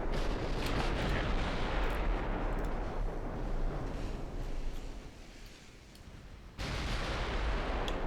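Artillery cannon fire in a combat video game attacking pillboxes at a shipyard, heavy continuous booming and rumbling blasts dense throughout, dipping briefly before a loud resumption near the end.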